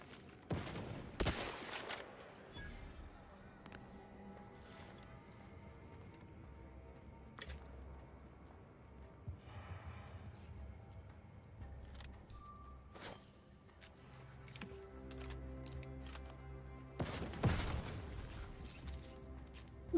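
Mortar fire in a video game on a planet of gold and spiders: a few heavy booming blasts, one early and one late, with scattered smaller impacts and rumbling game noise in between.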